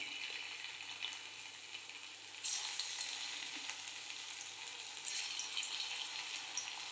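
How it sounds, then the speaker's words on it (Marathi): Spinach pakoda pieces frying in hot oil give a steady, close sizzle that grows louder and fuller partway through as more pieces go in, continuing without talk. "आपलं तेल गरम झालेलं आहे आपण एक एक वडी आता सोडूया"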